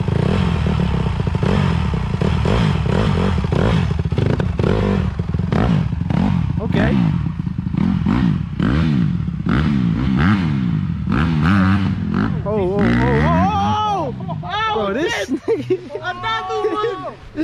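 A dirt bike engine revs and sputters as a beginner rider works the throttle outdoors, with uneven bursts of revving up close and people talking and shouting over it toward the end.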